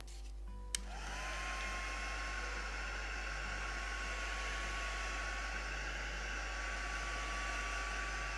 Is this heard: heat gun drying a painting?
yes